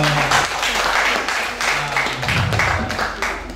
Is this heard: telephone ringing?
no